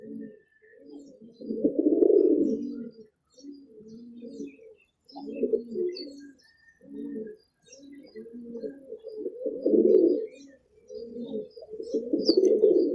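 Baby pigeons of the teddy variety cooing in repeated soft, throaty bursts with short pauses between, close and clear with faint chirps above, no voices.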